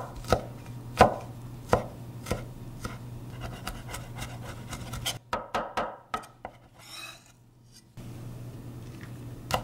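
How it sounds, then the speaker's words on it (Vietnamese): A knife mincing about three garlic cloves on a cutting board, sharp rhythmic chops that start steady, turn into quick scattered taps, pause, then resume at a close, moderate level. "Đầu tiên thì mình băm tỏi nhỏ ra nha"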